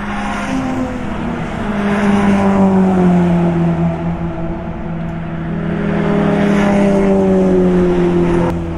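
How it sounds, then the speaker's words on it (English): Race cars pass one after another at Flugplatz on the Nürburgring during the historic race, engine notes swelling and fading, a steady loud roar with changing pitch as each car goes by. "lots of nice sounding cars going past"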